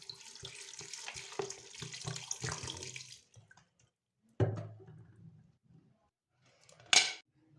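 Water from a tap pours into a pressure-cooker pot of mutton and turnip for shaljam gosht, a steady splashing stream for about three seconds, followed by a couple of sharp clanks and a later brief rush.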